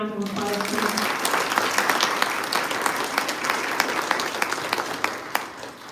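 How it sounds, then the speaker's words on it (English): Audience round of applause at a Misericordia University event, loud, dense clapping sustained throughout, with a brief voice at the very start. "Can we give them another round of applause"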